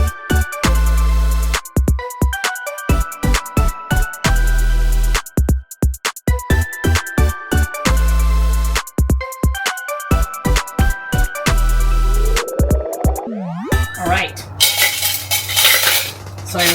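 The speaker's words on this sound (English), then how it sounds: "So this is how I do dishes." Hand washing of dishes in an RV sink: loud, close clinking of cutlery and plates in rapid irregular bursts, then a rising hiss of running water near the end.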